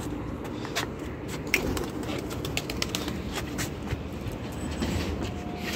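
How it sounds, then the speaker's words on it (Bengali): Female pigeon cooing at a pigeon tournament in Kolkata, soft low coos amid a busy outdoor backdrop of rustling and scattered clicks, with a steady rumbling bed underneath. "মাদি পায়রা"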